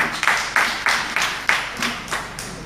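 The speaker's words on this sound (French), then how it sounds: "Applaudissez pour vous déjà." Audience applause at a coding forum panel in Porto-Novo comes in a steady rhythm of loud clapping bursts, several in quick succession, close and full with no talk over it.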